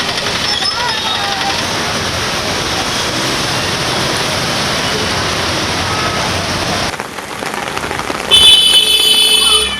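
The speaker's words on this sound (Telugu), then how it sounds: "హైదరాబాద్లో మళ్ళీ వర్షం మొదలైంది." Heavy rain pours across Hyderabad city as a dense, steady hiss that holds for about seven seconds, then thins, with a brief electronic tone or horn-like beeps near the end.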